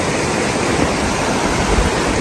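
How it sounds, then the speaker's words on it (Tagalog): Clear river water flows in a steady, loud, broadband rush that stays constant throughout, close and without any voices. "So, andito na tayo sa river."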